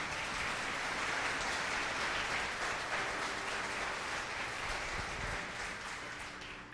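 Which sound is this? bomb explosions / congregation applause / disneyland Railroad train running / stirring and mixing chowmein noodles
congregation applause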